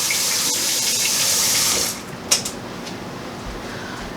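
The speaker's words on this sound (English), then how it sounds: "now we're just going to wash up really quick" A kitchen tap runs steadily as hands are washed after cracking eggs, a close, even rush of water that cuts off partway through, followed by a few faint clinks and quiet room noise.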